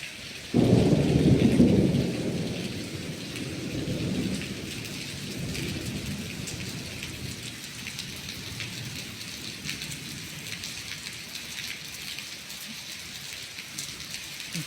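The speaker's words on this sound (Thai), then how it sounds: "ฝนลงมารอบที่สามแล้วนะคะเนี่ย ลงมาแต่ละรอบนี้ก็จะเป็นละออง พร้อมกับลม" Heavy rain pours steadily while a deep roll of thunder rumbles loudly at the start and slowly fades into the downpour, heard from a temple pavilion in Thailand.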